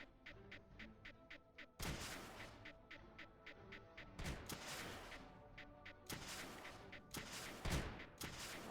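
Launchers fire on creepers in Creeper World 2, a rapid train of small clicks broken by several loud booming impacts that repeat at irregular intervals against quiet game ambience.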